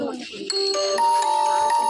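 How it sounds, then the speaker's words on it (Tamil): A mobile phone ringtone rings out with bright, sustained electronic tones stepping through a short melody, close and clear over faint background voices. "ஃபோன் அடிக்கடி வந்துகிட்டே இருக்குல்ல."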